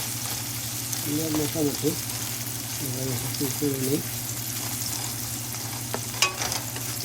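Garlic, onion and celery sizzle in a pan while being stirred in two short bursts of scraping strokes, with a steady frying hiss underneath and a person speaking briefly.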